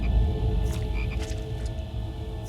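Frogs croak steadily in a dense, close chorus of rough repeated calls over a low background rumble, with no voices.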